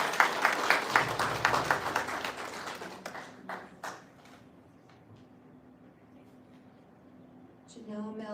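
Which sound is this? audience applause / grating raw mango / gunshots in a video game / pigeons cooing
audience applause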